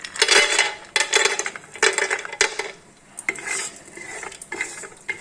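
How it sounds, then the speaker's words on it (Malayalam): Cashews stirred in hot ghee in a pan while cooking a chicken biryani, a metal spoon scraping and clinking against the pan in several loud, irregular bursts with a faint sizzle between them. "നമുക്ക് ആദ്യം കാഷ്യൂ ഇടാം."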